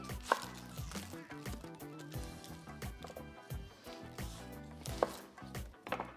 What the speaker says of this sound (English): first we are going to go ahead and mince this onion